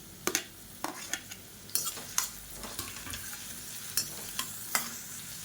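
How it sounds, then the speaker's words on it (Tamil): Sliced onion, green chili and chopped garlic with salt sauté softly in a pan, a faint sizzle punctuated by sharp, irregular clicks and scrapes of a spoon stirring, with no talking. "இப்போ பாருங்கள் வெங்காயம் பச்சை மிளகாய் எல்லாமே லேசாக வதங்கிடுச்சு"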